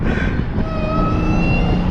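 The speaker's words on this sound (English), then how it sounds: "who needs an exhaust when the supercharger one is that loud?" A high, steady supercharger whine from a 2020 Hellcat Widebody Daytona rises and glides in pitch over a rumbling engine, loud and close, with no talking.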